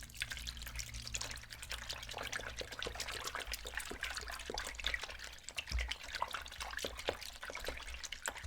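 GameCube controller parts soaking in soapy water with Dawn dish detergent: a faint, continuous trickling and gentle dribbling of water with small drips, quiet and close, with no voices.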